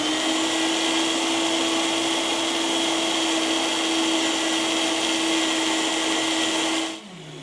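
A blender running on high purees raw garden vegetables into soup, a loud, steady motor whine with grinding that holds continuously for about seven seconds before spinning down near the end.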